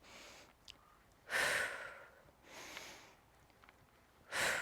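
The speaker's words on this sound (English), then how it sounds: "We're breathing out on the way up, in on the way down." Heavy exhaled breaths during a weighted shoulder press with 20-pound weights, several strong bursts of breathing spaced a few seconds apart with quieter breaths between, close and fairly faint.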